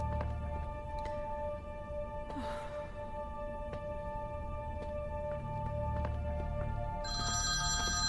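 A telephone ringing, a steady electronic ringtone of sustained tones held through the clip with a brighter, higher trill joining near the end, over a low background rumble.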